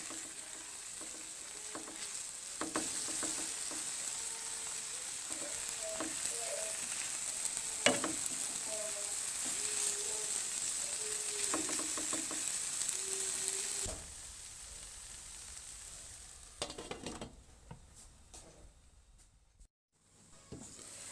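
Food sizzles gently in a frying pan on low heat, a steady close hiss with occasional clinks and stirring, fading quieter toward the end.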